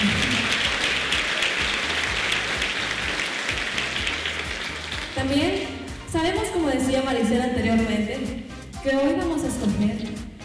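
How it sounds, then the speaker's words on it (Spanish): Audience applause at a Miss Guatemala US beauty pageant in Los Angeles, a steady wash of clapping for about five seconds before an amplified voice begins talking over the fading crowd noise. "me gustaría que todos le brindemos un fuerte aplauso a Diosito, nuestro creador"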